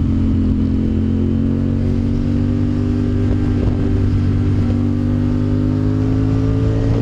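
A CF Moto 450 SR motorcycle is ridden at a steady speed, its engine droning loud and continuous with a rising pitch, mixed with wind rush and no talk.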